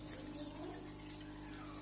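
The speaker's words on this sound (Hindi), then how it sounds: "अब ये पानी यहां से आना बंद हो गया क्योंकि अब यही पानी पंप से आना शुरू हो गया" Steady, continuous rushing and trickling of water flowing through the pipes of a homemade aquarium internal sump filter, fairly close and constant with no talking.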